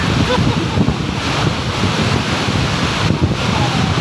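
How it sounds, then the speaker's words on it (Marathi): Loud, steady rushing roar of a waterfall at Arale village fills the whole stretch, a broad continuous wash with no talking. "मला दिसतोय बघा धबधबा कसा आहे जबरदस्त"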